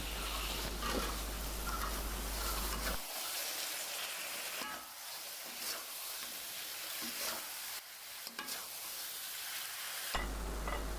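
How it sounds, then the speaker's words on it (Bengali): Already-fried potatoes are stirred into hot spiced oil masala for a potato cutlet dish, giving a soft, fairly quiet sizzle with scraping stirs that come and go. "আগেই ভেজে রাখা আলুগুলো এখানে দিয়ে খুব ভালোভাবে নেড়ে চেড়ে মিশিয়ে নিতে হবে"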